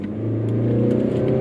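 A Mazda CX-8 SUV accelerates in sport mode from low speed, its engine drone rising steadily in pitch as heard from inside the cabin, loud and continuous.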